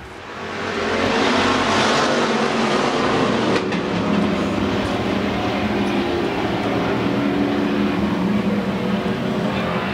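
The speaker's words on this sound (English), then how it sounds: "Green flag is that, folks. Let's go racing on a Saturday night." Pure stock race cars roar off at the green flag on a Saturday night at Central Arizona Speedway, a dense, steady engine drone that swells in the first second and then holds loud and continuous.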